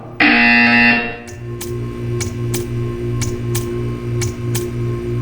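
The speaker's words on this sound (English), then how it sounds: "You will hear a buzzer." A loud, harsh electronic buzzer in Portal 2 blares for about a second, then cuts off, leaving a pulsing mechanical drone with sharp clicking ticks.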